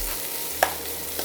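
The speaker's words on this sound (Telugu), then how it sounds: "సో మంచిగా ఫ్రై అయ్యేలా చూద్దాం." Mushrooms frying in a pan give a steady, quiet hiss with one sharp clack of a spoon partway through and a softer knock near the end, no voices.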